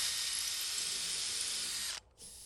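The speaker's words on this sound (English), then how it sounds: "Hold in place and pre-drill with a 9/64 drill bit into the middle of a deck board" A power drill fitted with a 9/64 bit whines steadily and loudly while pre-drilling into the middle of a wooden deck board for a tall swing set, then stops abruptly and briefly spins up again.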